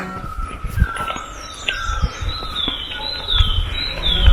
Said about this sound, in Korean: 새소리의 ASMR입니다.